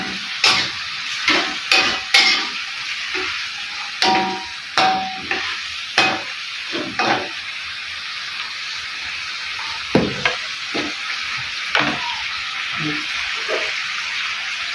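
Hard carrot pieces stirred in a frying pan while making a festive dish for a village celebration, giving irregular scraping knocks over a steady sizzle, fairly close and busy without talk.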